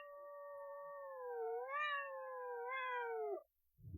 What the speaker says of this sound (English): I hear the kitty.